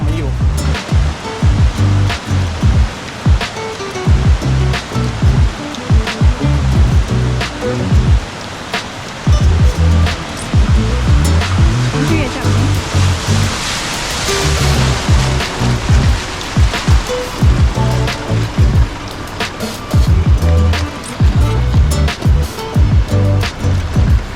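Water rushes steadily at the top of a waterfall, a loud continuous roar close by, broken by splashes and handling noise, with occasional voices.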